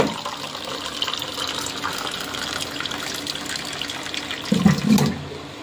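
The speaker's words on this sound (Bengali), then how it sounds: "হাত ধুয়ে নাও, আমি জল দিচ্ছি।" Water is poured for washing hands in a kitchen, a soft continuous trickle and splash running throughout, with a brief louder gush near the end, close by and without talk.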